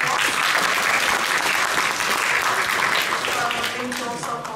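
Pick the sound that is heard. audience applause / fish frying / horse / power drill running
audience applause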